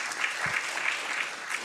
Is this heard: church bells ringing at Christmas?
no